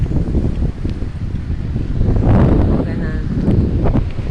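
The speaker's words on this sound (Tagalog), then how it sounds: "Mahangin." Steady wind at a beach buffets the microphone with a low rumble and gusts, while a person talks briefly over it.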